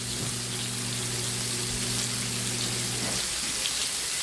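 Green beans frying in grease in a pan, a steady hiss and crackle of sizzling oil under a low hum that fades out near the end.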